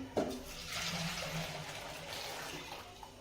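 Hot water pours and splashes into washed lentils in a container, a rushing, gurgling flow that starts abruptly with a clunk and continues steadily before easing off.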